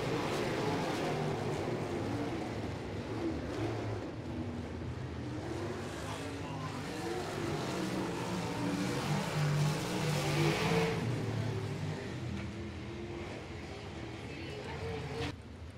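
Sprint cars racing in heat races at Paragon Speedway, a steady, fairly faint roar of engines heard from a distance, with voices over it throughout.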